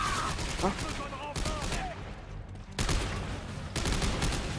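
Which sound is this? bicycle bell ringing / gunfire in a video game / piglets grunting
gunfire in a video game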